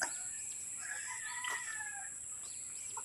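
Four roosters crow several times at a distance, faint but clear over a quiet background, with a few soft clucks.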